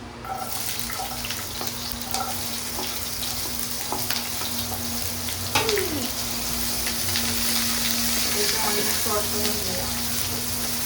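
Onions sautéing in a pan for a chicken sandwich, a steady broadband sizzle running the whole time, with scattered clinks and faint voices in the background.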